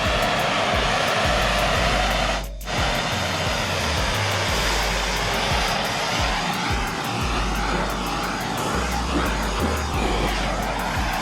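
Heat gun blowing steadily while warming the housing around a bearing on a CR85 dirt bike, a loud continuous roaring hiss with a brief dip partway through, no talk over it.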